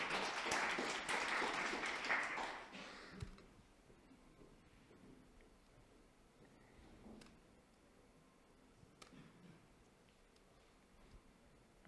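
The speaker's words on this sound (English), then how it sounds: "Meanwhile, you can just applause." A talk audience applauds for about three seconds, moderately loud, then the clapping trails off into a quiet room with only a few faint ticks and shuffles.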